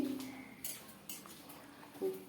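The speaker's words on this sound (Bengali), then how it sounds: "এবার ভালো করে নেড়ে চেড়ে নিচ্ছি" A few metallic scrapes and clinks of a utensil stirring taro leaves in a kadai, close and intermittent, with quiet pauses between strokes.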